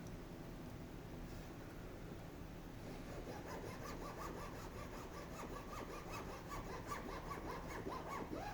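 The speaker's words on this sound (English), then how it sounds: "I'm just going to reuse that short piece and just cut the end off to get it to the A2 length" A wooden piece from a wall clock kit being cut to length with a saw, a steady rasping cut heard up close at low volume and without talk.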